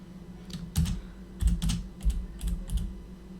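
Keys clacking on a computer keyboard in short bursts of rapid typing, close and fairly clear, with pauses between the flurries and no talking.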